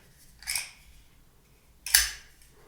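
PunCube mechanical card wallet with its ejection mechanism clicking and sliding cards out, two brief crisp mechanical snaps about 1.5 seconds apart, close and fairly loud, with no talking.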